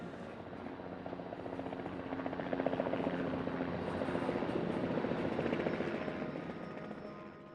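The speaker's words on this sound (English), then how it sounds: "It's very noisy here in the middle of the city. Trains, helicopters, crowds, arenas, traffic." A helicopter passes over a noisy city center in Portland, its blade chop a soft, distant thudding that swells in the middle and fades, over a faint urban background hum.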